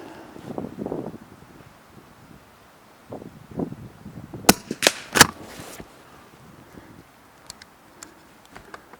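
A Blaser R8 straight-pull rifle chambered in .22 rimfire fires a few sharp, close cracks in quick succession midway through, set against light wind and rustling outdoors.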